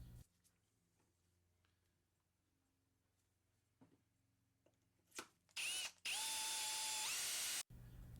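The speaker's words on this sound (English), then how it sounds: "Drill slowly, remembering not to apply too much pressure to the drill." A power drill fitted with a 3/16 bit drilling into an Atomic 4 marine engine during cylinder head removal, a short whir followed by a loud sustained drilling run of about two seconds after quiet handling noises.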